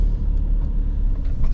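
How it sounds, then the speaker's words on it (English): A car approaches along a road with a steady low rumble of engine and tyres, moderately loud and fairly close, swelling slightly toward the end with no voices over it. "Oh, look, there's that car coming."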